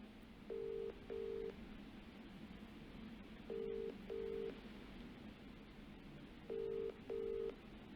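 A phone call rings out, with three evenly spaced pairs of short electronic ring tones over a faint background hiss, no talking.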